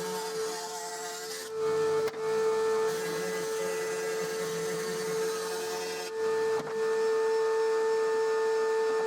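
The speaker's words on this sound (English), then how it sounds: "I'm going to mark up the inside of the shape and cut that out on the bandsaw" A bandsaw cutting through scrap plywood, a steady high whirring hum with a rasping cut, broken by two short pauses where the blade eases off the wood, close and alone without talk.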